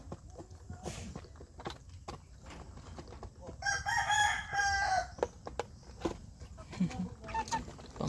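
A rooster crows loudly in the middle, with scattered chicken clucks and farmyard noises around it and no talking.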